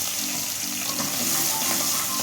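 Garlic frying in hot oil for pirandai thuvaiyal, a steady, close, loud sizzle crackling continuously throughout.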